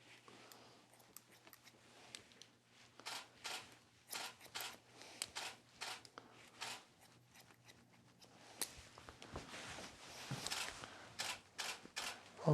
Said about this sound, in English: I'm only using the tip of the scissor and I'm not cutting past my center knuckle.